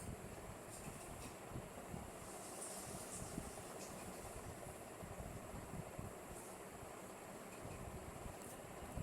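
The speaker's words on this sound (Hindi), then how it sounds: "अब हम जिप में दूसरी सिलाई लगाएंगे जो हमें जिप की एग्जैक्ट बाजू में ही लगानी है।" A sewing machine runs a second line of stitching beside a zip on a jumpsuit, giving a continuous rapid mechanical whir and rattle that holds steady throughout, with no speech.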